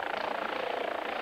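A rescue helicopter's rotor and engine drone steadily, a continuous whirring hum at moderate level with a faint rhythmic chop, heard alone for just over a second.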